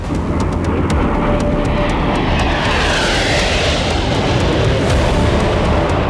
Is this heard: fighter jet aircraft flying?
yes